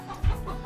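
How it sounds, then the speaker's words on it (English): A mother hen gives a single low, soft cluck indoors in a henhouse, heard close and brief against quiet background noise. "what we have in here is this mama hen"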